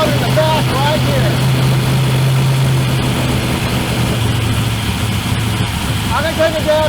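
A running engine fitted with a 4150 carburetor on E85 fuel idles loudly and steadily up close, its low drone constant as someone talks over it.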